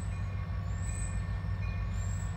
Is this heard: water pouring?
no